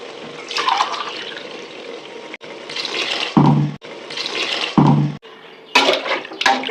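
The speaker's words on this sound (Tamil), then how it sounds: "அதுக்கு 5 கப் தண்ணி வைக்க போகிறேன்" Water poured from a cup into a cooking pot for tomato rice, splashing in several separate pours with short pauses between them, close and fairly loud.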